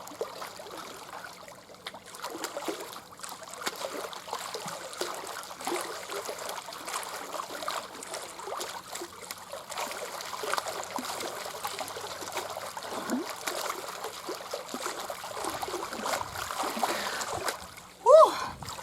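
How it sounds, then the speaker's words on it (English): Pool water swishes and splashes as a kickboard circles down through it during frog kicks. The sloshing is continuous and uneven, with a louder splash near the end. "I'm using the kickboard and I'm circling down into the water and then flipping it up."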